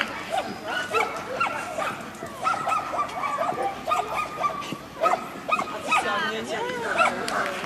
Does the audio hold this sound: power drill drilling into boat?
no